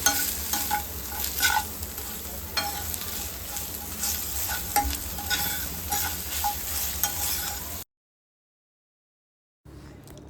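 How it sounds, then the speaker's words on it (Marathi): Ginger-garlic paste fries in a pan, making a steady, close sizzle broken by scraping stirs, and it cuts to silence for about two seconds before the frying returns briefly. "आता आलं लसूण पेस्ट घालून ती नीट परतून घेतली आहे"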